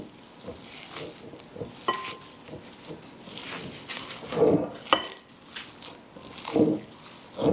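Caramelized onions frying and being stirred in a pan on a homestead stove, a steady close sizzle with soft scraping and a few louder clinks of the utensil against the pan.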